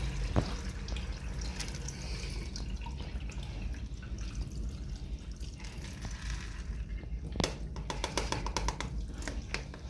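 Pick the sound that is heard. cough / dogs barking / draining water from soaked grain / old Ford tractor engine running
draining water from soaked grain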